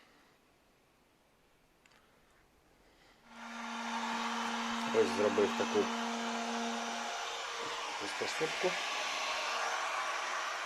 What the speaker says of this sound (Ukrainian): Феном. Феном продуваю.